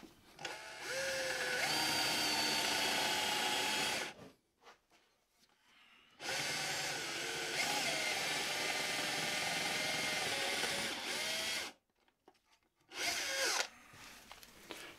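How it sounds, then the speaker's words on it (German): A power drill with a Forstner bit boring into wood for a coffee bar build, a loud steady whirring grind in two long runs and a short final burst, separated by near silence. "Und dann gehen wir hier mit dem Forstnerbohrer genau in das Loch rein."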